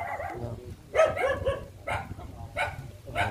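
Several dogs at a Vietnamese home bark and yip in clustered bursts, overlapping and close, with short pauses between volleys.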